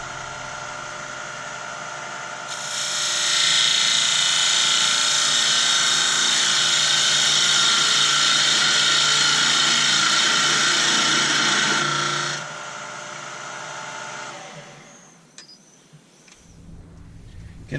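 A wood lathe turns the bottom of an elm bowl, giving a sustained bright hiss of cutting for about ten seconds over the motor's hum, which continues alone after the cutting stops.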